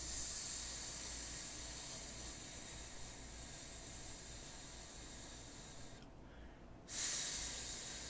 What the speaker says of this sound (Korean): 내쉬고